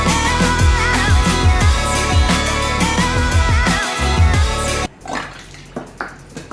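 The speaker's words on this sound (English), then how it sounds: "Now we're going to be dumping in all the glue." Glue poured into a kiddie pool for slime makes a steady, loud splashing and gurgling stream, which stops abruptly and gives way to faint drips and quiet rustling.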